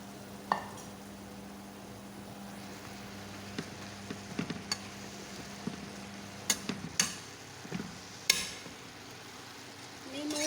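Eggplant stir-fried in a pan with minced pork: a low, steady frying hiss under scattered clinks and scrapes of a spatula, with a few sharper knocks against the pan.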